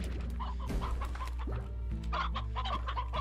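Stony chicken from the video game Slime Rancher clucks steadily in a dense, continuous run of game fowl calls over a constant low background hum.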